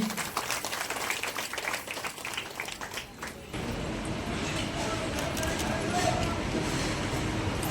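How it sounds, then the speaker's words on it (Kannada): Loud, steady applause from a crowd at a puja ceremony fills the room, starting after a stretch of talk and building into continuous clapping. "ತಮ್ಮೆಲ್ಲರ ಜೋರಾದ ಚಪ್ಪಾಳೆ ಬರಲಿ"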